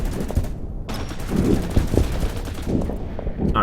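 In the strategy game Order of Battle, a volley of gunfire strikes a bunker, a dense rattle of rapid shots and heavy bursts pounding continuously for several seconds, loud and close.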